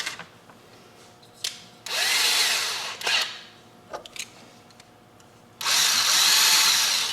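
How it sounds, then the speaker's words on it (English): A power drill bores out a pilot hole in a die-cast Hot Wheels car during a wheel swap, running in two loud sustained bursts separated by quieter clicks and handling noises. "Basically all I'm doing is just drilling out this a little bit further."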